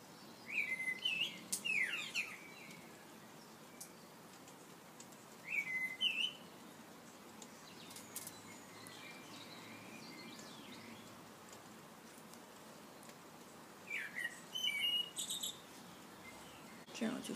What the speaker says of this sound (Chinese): 这小鸟叫